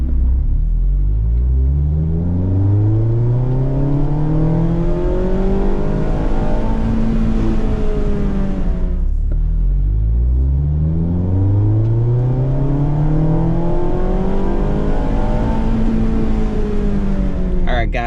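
A Mazda ND Miata fitted with a Roadster Sport Race exhaust accelerates hard twice in a row, its engine note climbing steeply through each gear with a brief lift between runs, loud and close throughout with no talk.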